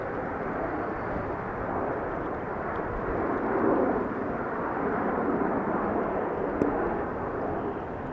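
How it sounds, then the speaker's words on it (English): A private jet takes off from runway 22 at Amsterdam Schiphol on a windy day, a broad, steady roar from some distance with a slight swell partway through, and no talking. "there is a private jet taking off from runway 22."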